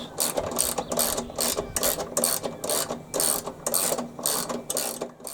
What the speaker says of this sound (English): So yep, undo the 4 nuts and bolts.